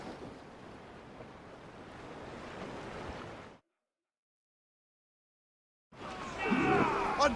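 Sailing ship at sea in the Assassin's Creed Rogue game: steady rush of wind and waves against the hull, broken by a stretch of silence, then louder sea noise with a voice speaking over it.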